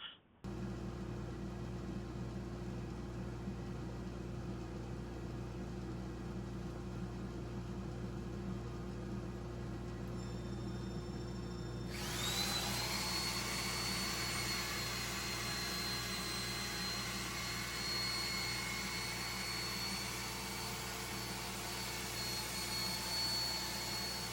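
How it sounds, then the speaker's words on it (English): Turned caragana root wood sanded on a lathe with finer grits, a steady loud whirring motor drone with a brighter hissing abrasive layer coming in partway through, close and continuous without talk. "I get on with doing the sanding with some of the finer grits to give it more of a polished look"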